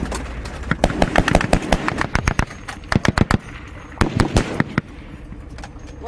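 Machine gun fire in combat in Afghanistan rattles in loud, rapid bursts of sharp cracks, several strings of shots close by with brief pauses between them, and no voices.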